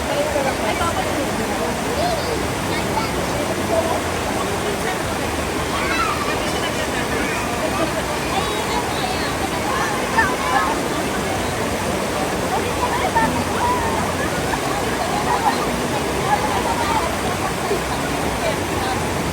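Rushing water current at a crowded swimming pool, a dense, continuous wash of water noise with faint crowd activity mixed in, steady and fairly loud throughout.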